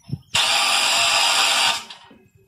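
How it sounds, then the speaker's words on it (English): A power drill with a socket drives the worm-drive winch on a livestock crane, a loud, close, steady high whir lasting just over a second before winding down. "you also have the capability with a socket on an impact or drill to raise and lower"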